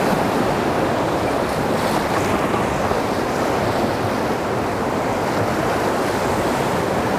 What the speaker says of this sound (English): try to keep the big waves out of the boat